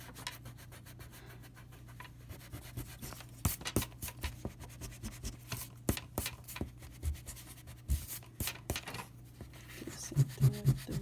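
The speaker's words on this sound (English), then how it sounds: "now I'm just going to erase all the excess lines that I don't want" An eraser rubs out excess pencil lines on paper during a lettering workshop. The rubbing comes in quick, close, uneven bursts and grows louder toward the end. A low steady hum sits underneath, and no one speaks.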